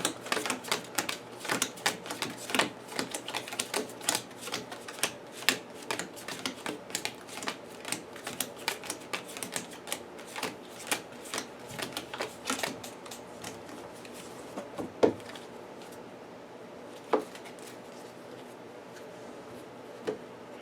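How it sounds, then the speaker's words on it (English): Cards from a deck for a card game being shuffled up close, a long run of quick crisp riffling clicks and snaps, busier at first and thinning out toward the end, with no one speaking. "And then we'll shuffle Diana Stanley over here."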